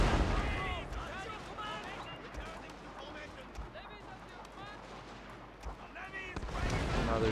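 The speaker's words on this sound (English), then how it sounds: "It sounds like they're shooting 50 caliber rifles" Volleys of rifle fire crackle steadily across a Shogun 2: Fall of the Samurai battlefield, with scattered heavier thuds, under a commentator who talks almost throughout.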